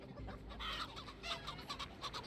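Chickens cluck in an Assassin's Creed Valhalla game scene, a flock of fowl giving repeated short clucks close by, steady and busy over a low ambient background.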